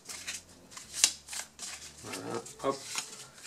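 A deck of event cards being shuffled for a Shadows of Brimstone board game session, soft papery riffles and snaps up close, with someone talking briefly over it.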